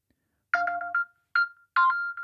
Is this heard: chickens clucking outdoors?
no